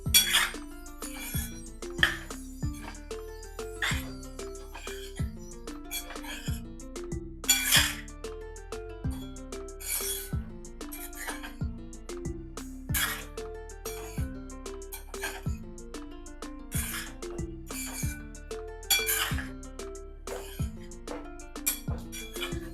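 Batata poha being stirred in a pan, a steady series of close metallic clinks and scrapes from the spoon against the pan, repeating at an irregular, fairly quick pace with occasional faint throat sounds.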